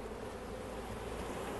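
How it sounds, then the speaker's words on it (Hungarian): Bees swarm over a beehive frame among blueberry bushes, giving a dense, steady buzz that is fairly soft and continuous, with no talking. "méh zúgás gondolom már visszacseng a füledbe alvás közben is"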